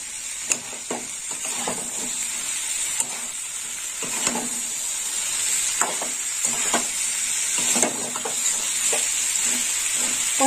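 Water goes into a pan of sautéing vegetable stems and potatoes, and a steady sizzle and hiss runs throughout, with intermittent clinks and stirring scrapes of a utensil against the pan.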